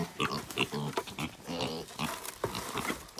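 A young pig grunts repeatedly in a snowy farm pen, close and moderately loud, with short rhythmic snorting bursts.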